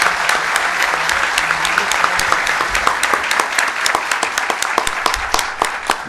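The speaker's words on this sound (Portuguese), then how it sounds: "uma salva de palmas, porque este homem merece o nosso reconhecimento" A large conference audience at a Brazilian legal congress applauds steadily, dense clapping filling the whole stretch at a loud, even level.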